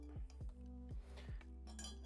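A utensil stirs liquid inside a coffee machine part, knocking and clinking against the sides several times in a loose rhythm, close but soft, over a steady low hum.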